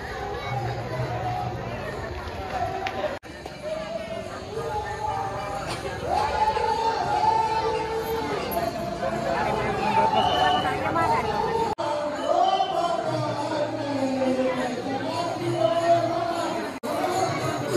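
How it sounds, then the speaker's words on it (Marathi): Crowd at a temple fair on Datta Jayanti at a math in Palasdari, a continuous murmur of many voices and chatter with steady movement noise, moderately loud and sustained throughout. "आज खूप गर्दी आहे"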